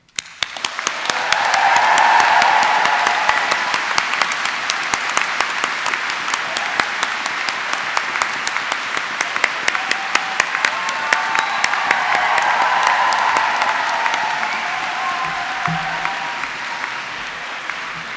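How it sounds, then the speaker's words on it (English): A large audience at a London College of Fashion graduation ceremony gives university staff a sustained, loud round of applause that swells, holds steady and gradually thins over about eighteen seconds. "I am sure you would like to join me in giving them a warm round of applause"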